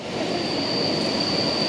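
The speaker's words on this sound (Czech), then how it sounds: "to je normálně vlak" A train rolls past close by in Plzeň with a steady, broad rumble and a thin high metallic whine running throughout.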